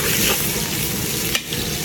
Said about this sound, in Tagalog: Magsusunog muna tayo ng bawang.